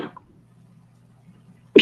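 Two sneezes, one at the very start and a louder, sharper one at the end, separated by a stretch of quiet low hum with no talking.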